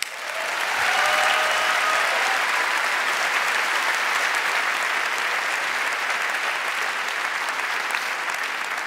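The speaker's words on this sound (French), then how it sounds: "qu'est-ce que c'est que ces applaudissements là pour m'accueillir?" A television studio audience breaks into loud, sustained applause for a comedy host, a dense wash of clapping that swells within a second and holds steady without speech.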